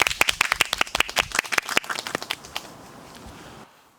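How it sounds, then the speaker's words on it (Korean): Scattered claps from a small audience welcoming guests onto a visible-radio talk show, sharp and close at first, then thinning into a softer patter before stopping. "자, 박수로 맞이하겠습니다."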